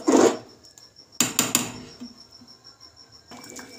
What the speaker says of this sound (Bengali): মাঝে মাঝে কিন্তু আপনাদের খুন্তিতে নেড়ে দেখতে হবে, না হলে তলায় ধরে যাবে খিচুড়িটা